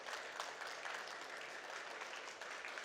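Audience at a healthcare conference applauds, a faint, distant, steady patter of many hands clapping throughout.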